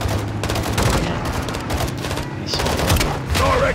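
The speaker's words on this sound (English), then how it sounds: "Gaz, hit with the launcher" Launcher fire and rapid gunfire in the 2022 Call of Duty: Modern Warfare 2 shooter, loud, dense and continuous, with bursts of shots and blasts over battle noise while voices call out.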